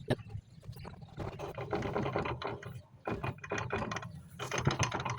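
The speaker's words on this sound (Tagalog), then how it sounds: "Yan, grabe yung ingay niya. Maluwag na yung gearings niya." Loose transmission gears of a Yamaha Mio MXI 125 fuel-injected scooter, turned by hand during a repair, giving loud, close, rapid ratcheting and clattering that runs nearly nonstop with a brief pause.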